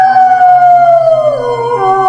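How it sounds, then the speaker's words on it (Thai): A pet dog of a foreign breed lets out one long, loud, drawn-out howl that slides slowly downward in pitch. It is a sound effect in a narrated ghost story, close and clear with no voice over it. "หมาฝรั่งที่เลี้ยงไว้ก็หอนขึ้นอย่างไม่มีปีมีคุย"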